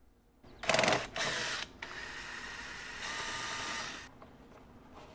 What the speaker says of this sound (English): I'm gonna go ahead and use my drill